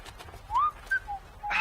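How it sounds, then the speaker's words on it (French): A person whistles a few short, clear rising and sliding notes, close by and fairly loud, with a brief burst of other noise at the end; no speech. "Ah, arrêtez de siffler."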